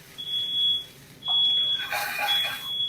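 A kitchen smoke alarm set off during cooking shrills in repeated piercing bursts, with a clattering, sizzling burst of kitchen noise partway through and no talking.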